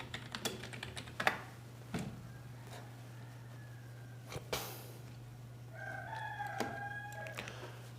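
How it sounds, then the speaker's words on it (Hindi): A rooster crows in the distance before dawn near the end, preceded by scattered taps and clicks over a steady low hum in an otherwise quiet room. "आपको यकीनन एक मुर्गे की आवाज़ भी आ रही होगी"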